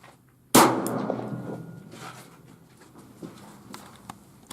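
A pistol fitted with a Griffin Armaments Optimus suppressor fires a single sharp, loud report after a quiet moment, its tail decaying over a few seconds amid faint clatter.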